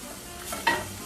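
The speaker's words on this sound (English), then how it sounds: "So I've got my flame on pretty high because I want this to cook really fast. I want to saute this." Finely chopped onion sautéing over high flame in a pan for Bolognese sauce, a steady soft sizzle with a brief stirring scrape partway through, close up and without talk.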